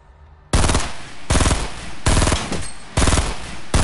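Four loud, evenly spaced bursts of rapid automatic gunfire crack out close up in a first-person shooter, each burst lasting about half a second with short gaps between.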